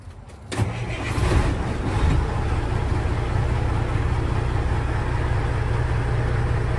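A 2001 International 9400 truck diesel engine cranks and catches, then settles into a steady, loud rumbling idle close by.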